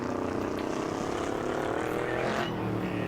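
Super Late Model race car engine in Assetto Corsa at Dodge Stadium, a steady droning buzz held at part throttle with no talk.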